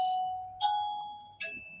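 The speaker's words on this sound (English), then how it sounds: "sorry about my doorbell there." A two-tone electronic doorbell chime rings three times in quick succession, each tone sustaining and slowly fading, with a hiss at the start.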